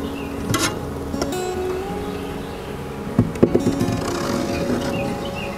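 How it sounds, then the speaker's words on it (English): Honey bees from a swarm buzzing inside a hive box, a steady dense hum with a few sharper close fly-by buzzes and knocks over it. "I got some bees in the box we're gonna need to shake out."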